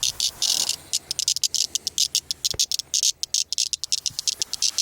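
A cicada calls up close in a loud, rhythmic train of rapid buzzing pulses that stutter and speed up, alone without voices.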